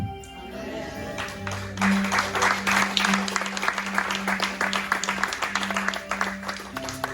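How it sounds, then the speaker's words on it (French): A church congregation breaks into applause after a short spoken phrase, a dense clatter of clapping that builds within a couple of seconds and carries to the end under a steady hum. "Alors, beaucoup ont applaudi."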